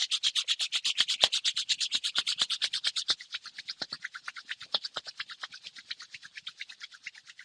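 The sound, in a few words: rubbing palms of hands together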